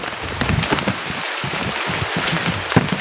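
Steady rain patters down in a dense, even hiss with scattered drop taps, continuing without pause and no voices.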